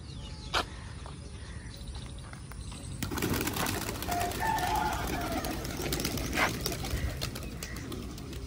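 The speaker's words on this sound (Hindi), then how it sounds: "ये देखें जी दो कबूतरों को उड़ा दिया" Two pigeons flutter and take off as they are released, amid a busy outdoor village background, with a brief burst of wing flapping at the start and faint cooing.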